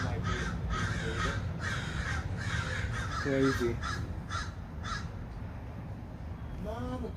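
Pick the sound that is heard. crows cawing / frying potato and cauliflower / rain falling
crows cawing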